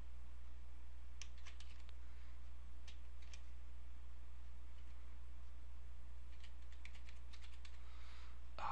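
Keys on a computer keyboard clack in two short bursts of quick typing, separated by a pause, over a steady low hum.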